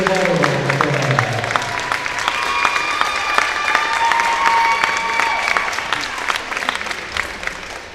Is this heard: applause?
yes